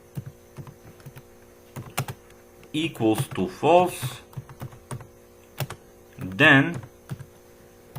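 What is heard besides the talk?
typing code on a computer keyboard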